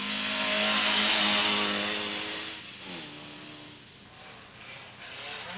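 A front-wheel-drive Lancia rally car driven by Simo Lampinen roars past with a loud, high engine note that peaks and then fades into the distance as it drives away.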